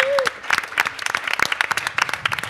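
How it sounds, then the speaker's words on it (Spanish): Audience applause for a film crew at a screening Q&A, a sparse patter of individual claps close by, with a brief voice near the start and some talk mixed in. "también un aplauso para cada una de las personas"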